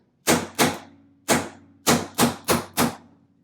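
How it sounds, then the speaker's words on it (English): Seven sharp metallic hammer strikes on a 5/32 punch drive a rivet out of a part clamped in a vise, landing in uneven pairs and singles, loud and close with short ringing decays. "using just a hammer and again a 5/32 punch, let's drive the rivet out and from top to bottom"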